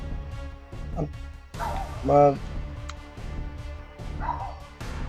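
A dog barks a few times nearby amid background noise, with one sharper yelp standing out in the middle.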